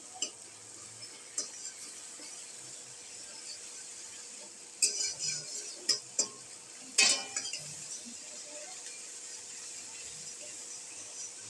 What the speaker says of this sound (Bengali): মশলাটা খুঁটি দিয়ে নাড়াচাড়া করে বেশ কিছুটা সময় নিয়ে আমি মশলাটা কষিয়ে নিচ্ছি